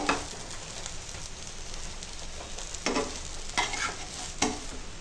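Fish frying in a pan on low heat while being stirred and turned, giving a steady close sizzle with a few louder scraping bursts, no talking.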